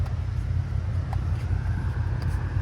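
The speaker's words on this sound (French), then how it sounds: "Donc là on a encore un bijou, quelque chose que j'adore, Maserati Gran Turismo" A Maserati GranTurismo with its naturally aspirated 4.7-litre V8 passes along a street in Deauville, a steady broad roar with low rumble holding throughout, fairly loud and unbroken by talk.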